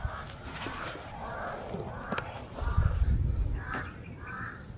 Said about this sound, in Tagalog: Yung uwak.